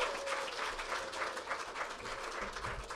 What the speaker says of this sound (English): If you can, give them all a big round of applause.